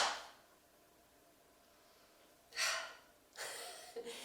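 Breathing out hard during a beginner yoga session: two breathy, whooshing exhales in quick succession after a quiet pause, fairly close and with no talking over them.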